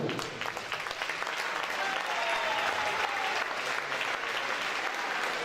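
Steady applause from a crowd at a women's elite volleyball match, sustained clapping at an even level throughout.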